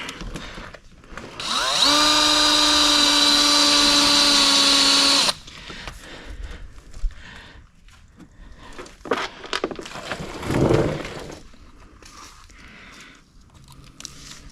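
Power drill driving screws into a car's SpeedForm chin spoiler, one loud sustained whine for a few seconds, followed by quieter handling clatter and rustling.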